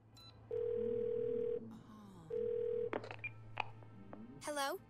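Telephone dial tone from the Twelve Minutes video game, two long steady tones separated by a pause, then a run of short keypad beeps and a rising electronic chirp at the end.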